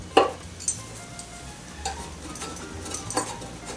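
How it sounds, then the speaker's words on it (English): A putty knife scrapes leftover adhesive residue off a Studio 49 contrabass bar, producing faint, intermittent scratchy strokes and small clicks spaced irregularly over quiet background. "With the putty knife, you should be able to just scrape off what's left of that residue"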